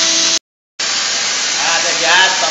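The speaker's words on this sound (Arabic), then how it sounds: "شوف كمية البخار كمية عالية" A steam carpet cleaner jets a high volume of steam onto a chair, making a loud, steady hiss that cuts out briefly, then resumes and runs to the end.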